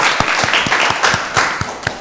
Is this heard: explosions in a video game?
no